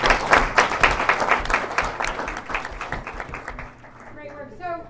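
Applause for members at a board meeting working session: dense clapping from a room of people for about three and a half seconds, then fading out as a voice begins to speak.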